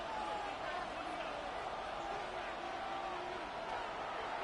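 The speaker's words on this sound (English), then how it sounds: "This crowd urging the defense on" A stadium crowd at a football game roars steadily behind a commentator's voice, cheering on the defense late in the game.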